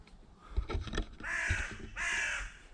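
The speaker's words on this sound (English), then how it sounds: "that's an ominous sound, isn't it, the crow?" A crow caws in woodland, two harsh drawn-out calls following a few softer clucks, moderately distant and quiet with no voices.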